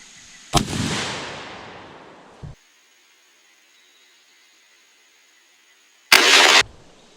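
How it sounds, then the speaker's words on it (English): Franchi Affinity 3 Waterfowl Elite 12 gauge shotgun fired outdoors during point of impact testing, loud booming blasts with a long decaying rumble after the first, then a quiet gap before another blast. "Three shots once again, just like all the other times."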